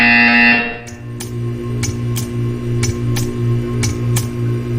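Buzzer in a Portal 2 test chamber: a loud tone cuts off, then a steady electric hum with short regular pulses at roughly half-second intervals.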